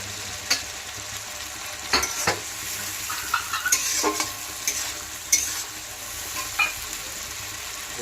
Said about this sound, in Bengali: এবার মশলাটাকে ভালো করে ভেজে নেব।